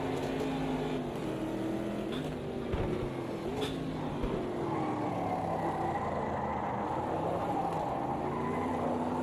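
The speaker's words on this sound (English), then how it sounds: "Oh, one-handed drifting. Tyres are so hot now." Steady car engine with tyre squeal and skidding as a racing-game car drifts one-handed on hot tyres, a continuous loud drone with screeching slides throughout.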